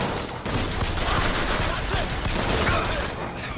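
Bioshock Infinite gunfire rattles in a dense, steady volley of shots lasting several seconds, loud and continuous, with faint voices beneath.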